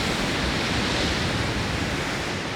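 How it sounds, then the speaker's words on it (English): Big ocean waves roll in on a misty evening, a broad, continuous roar of surf with a wind-like wash, steady and fairly loud with no distinct breaks between sets. "Some big waves coming in there"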